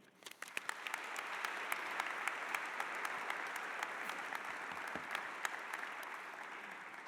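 An audience at a school assembly breaks into steady, sustained applause to welcome a guest speaker on stage, with a dense wash of clapping and a few sharper claps standing out.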